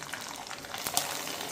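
Papdi frying in hot oil in an iron kadhai, a faint continuous sizzle with a small crackling burst near the end, no talk.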